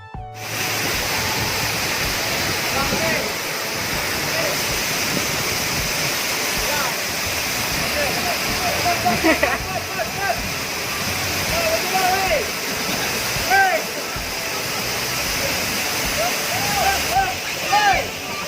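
Sarasah waterfall in Padang, West Sumatra, roars in a steady, dense rush of falling water that fills the whole stretch evenly and loudly, with faint voices from bathers mixed into the background.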